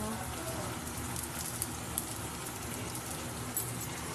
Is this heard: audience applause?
no